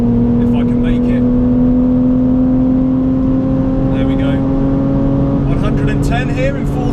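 A BMW Z4 engine pulls hard in fourth gear on a race track at a track day, a loud, steady in-car drone with rising harmonics as speed builds, and someone talks over it throughout.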